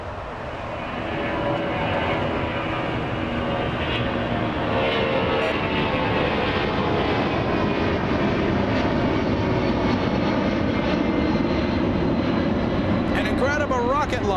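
A charter jet airliner taking off from runway 25 right at LAX, bound for San Jose, California, its engines building to a loud, sustained roar that holds steady, with a voice speaking over it.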